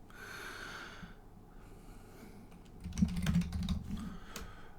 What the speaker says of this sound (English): Typing in Hong Chow will not get me anywhere